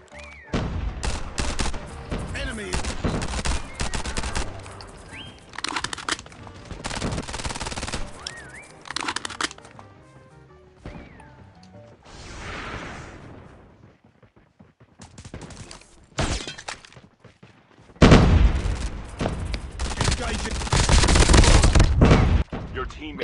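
Dense automatic gunfire in a battle royale video game, long rattling bursts broken by short pauses and a softer stretch, loud and close, with players talking over it.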